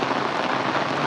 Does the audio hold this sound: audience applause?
no